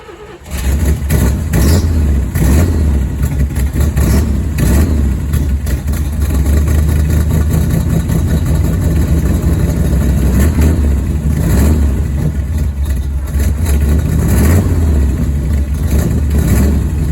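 A Chevrolet Bel Air engine, with a carburetor and choke and not run for a year, cranks and catches, then keeps running with loud revving and rough idling through a long stretch, close and dominant with no voices.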